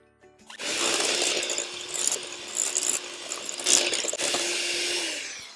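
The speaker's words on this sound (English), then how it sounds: "get our little mixer on the go" An electric hand mixer beats drop scone batter in a bowl, a close, steady whirring drone that starts abruptly and runs continuously with slight rattles and dips as the beaters move.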